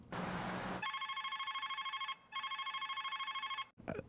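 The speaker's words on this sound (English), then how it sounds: "I hope that's not the final ringtone." A Librem 5 phone sounds its incoming-call ringtone, a bright trilling electronic ring in two long bursts separated by a brief gap, loud and harsh with nothing else over it.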